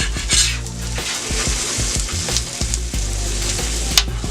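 Teriyaki salmon searing on a Steelmade flat top griddle, a continuous close sizzle with a few scraping and tapping sounds throughout, no voices.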